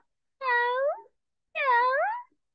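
A cat meows twice, each a clear, drawn-out, close and loud call lasting about half a second, separated by a brief silence.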